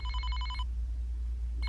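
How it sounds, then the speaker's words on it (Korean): A telephone rings in a quick electronic trill for about half a second, falls silent, then starts again at the very end over a low steady hum, with no talking. "전화가 왔네"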